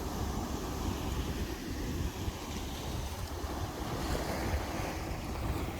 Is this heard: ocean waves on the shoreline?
yes